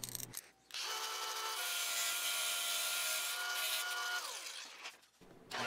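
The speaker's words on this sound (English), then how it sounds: "now I can trim down that pivot pin to its appropriate size" A power tool trims a wooden pivot pin to size, a steady high whirring grind lasting about four seconds with a slight pitch shift midway, close and alone, then stopping.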